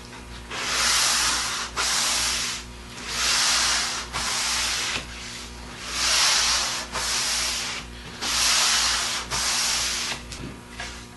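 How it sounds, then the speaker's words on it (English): A wooden cabinet door being lightly sanded by hand with a sanding sponge, a soft raspy scrubbing in steady back-and-forth strokes, each pass rising and falling in a regular rhythm, close by with no talk. "I'm just using this sponge just to lightly sand this to kind of create, like I said, a little bit of a sanding scratch"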